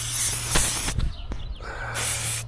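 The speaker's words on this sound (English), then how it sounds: "We'll just spray her down with some" SC1 protectant sprayed from an aerosol can onto a dirt scooter in short close bursts of loud hissing, separated by brief pauses.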